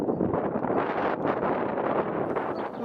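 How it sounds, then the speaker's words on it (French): Strong wind on a beach in Porto buffets the microphone, a loud, continuous roaring rumble with no break. "il y a beaucoup de vent quand même sur la plage"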